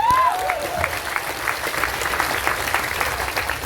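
A packed religious gathering audience in Taichung, Taiwan breaking into applause, a dense, fairly loud wash of many people clapping, with a brief whistle-like tone at the very start.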